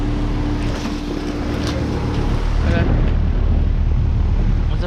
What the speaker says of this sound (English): here I have a Carrier Comfort and a Rheem Value Series heat pump running in heat mode